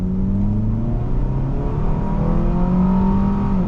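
2002 Honda Accord SE engine pulls hard and steadily under acceleration, rising in pitch through the gears with a loud, close, continuous drone.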